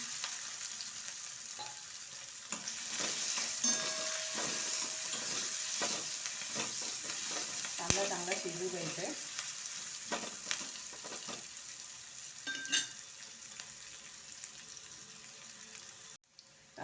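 Finely chopped onion and green chilli fry in a pan for drumstick besan, giving a steady close sizzle broken by repeated scraping stirs.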